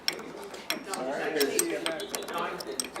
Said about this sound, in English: I'm going to clamp this in the vise, so that I can tighten these nuts.